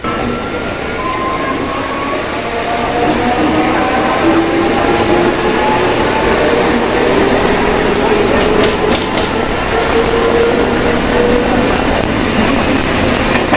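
A Katwa–Barddhaman passenger train runs steadily, its loud continuous rumble and rolling rattle heard from inside the carriage, with faint whining tones drifting through.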